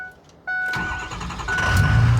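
A car engine starts with a chime, then rumbles steadily and grows louder as the car pulls up, a close, continuous low drone with a brief tonal beep over it.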